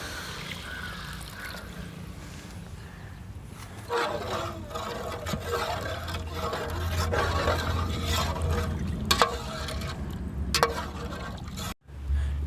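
Water poured into a pot over an outdoor village fire for mutton dum biryani with basmati rice, a steady mid-level trickle and splash building from about four seconds, with clanks and brief knocks.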